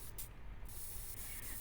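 Spray can hissing in Passpartout 2 while painting a flag, a steady broadband spray that runs through the whole short stretch, fairly quiet and continuous with slight surges.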